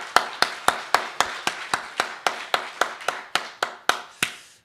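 Congregation clapping in unison during a Sunday church service, about fifteen sharp, evenly spaced claps forming a steady rhythmic beat, fairly close and loud with no talking.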